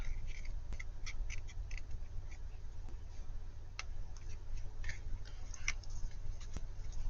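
Scissors snip around a cutout for a pink Barbie mop bucket, giving short crisp cuts in irregular bursts over a steady low background hum.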